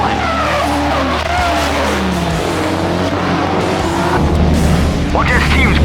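Drift cars at the Final Bout team drift competition skid past with loud, continuous tire squeal and roaring engines, pitch sweeping as they slide, while a voice talks over the racket.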